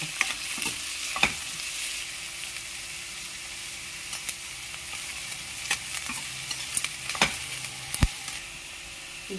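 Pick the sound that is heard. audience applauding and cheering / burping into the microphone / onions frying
onions frying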